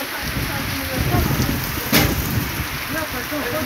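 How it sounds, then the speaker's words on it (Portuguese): Heavy rain pours steadily in the Brazilian northeast, a dense, continuous roar of drops hitting surfaces, loud and close with no pause and a brief sharper burst partway through. "Muita chuva aqui no Cipé, graças a Deus."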